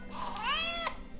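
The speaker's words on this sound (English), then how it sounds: "It's a kitty cat." One clear, close cat meow from the Christmas Stories: The Gift of the Magi game, a bending cry about a second long that cuts off sharply, heard alone without voices.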